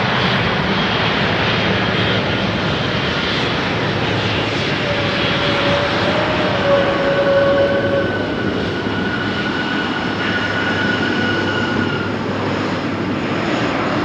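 KLM airliners on the Polderbaan runway at Amsterdam Schiphol Airport roar with steady, loud jet-engine noise, a continuous broadband rumble with a faint whine rising and fading partway through, and no voices.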